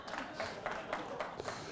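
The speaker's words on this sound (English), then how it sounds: "I don't know if we should applaud ourselves for D- performance" An audience claps during a physics book talk, a brief patter of scattered hands at moderate distance with no voices over it.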